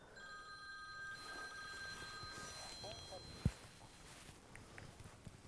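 A telephone rings in a workshop with repeated electronic ring tones over the first four seconds, fairly faint against room noise, followed by a sharp knock and soft shuffling.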